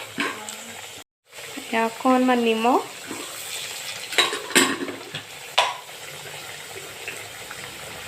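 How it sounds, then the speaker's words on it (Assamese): Potatoes fry in hot oil in a wok, giving a steady crackling sizzle with stirring and utensil scrapes, broken by a short gap and overlaid by a brief spoken phrase. "তেলত আলুটো আমি ৰঙচুৱাকৈ অলপ ভাজি ল'ম যাতে দেখিবলৈ আৰু খাবলৈও ভাল হয়"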